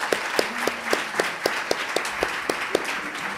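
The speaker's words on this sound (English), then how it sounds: "let us welcome him with an applause" A small audience claps to welcome a speaker at a talk on Tolkien and C.S. Lewis, with a handful of distinct, fairly even hand claps ringing in a room.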